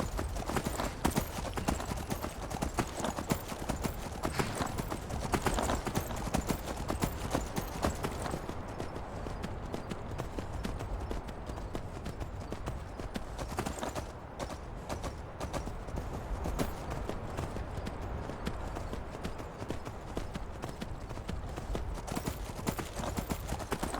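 Horse hooves clip-clop in a steady, rhythmic gait inside the video game Beyond Skyrim: Bruma, the trotting continuing throughout at moderate loudness with an occasional faint whinny and no speech.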